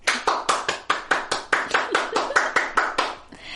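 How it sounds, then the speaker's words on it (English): Hands clap in a steady, even beat of about fourteen crisp, close claps in a row, following a call for everyone to clap along. "Everybody clap your hands."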